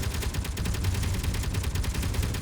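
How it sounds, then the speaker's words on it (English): Rapid automatic gunfire in the Space Engineers video game, a dense, steady burst of fast repeated shots filling the moment, loud and continuous with no talk. "That's a lot of gunfire at him, though."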